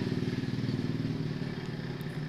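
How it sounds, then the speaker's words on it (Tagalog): Several motorized tricycles pass close by, their small engines putting out a loud, steady, pulsing drone that holds for the whole stretch and eases slightly near the end. "padaanin muna natin yung mga tricycle. Maingay eh."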